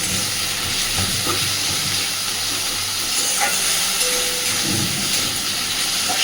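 Cut potatoes frying in hot oil in a pan, giving a loud, continuous, dense hiss and sizzle that holds steady throughout, with a few faint clinks in the background.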